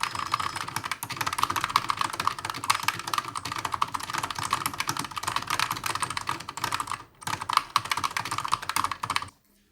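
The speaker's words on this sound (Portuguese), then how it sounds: "ele ainda não consegue acompanhar minha digitação" Rapid, continuous typing on the large keyboard of an Olivetti PC typewriter, a dense patter of close clicking keys that pauses briefly once and stops at the very end.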